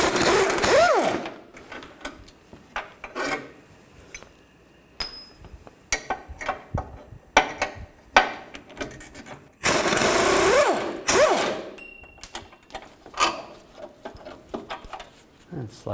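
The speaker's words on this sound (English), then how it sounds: "I'm just going to take these two bolts out, and there's nuts on the back side, and use a 21mm wrench on the back and a 21mm socket on the front." Hand tools work on 21mm bolts and nuts on a Chevy Tahoe: a wrench and socket ratchet and clink in short, irregular bursts, with metallic knocks and scrapes close by.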